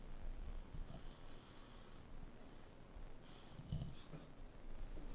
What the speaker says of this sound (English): Little sniff test.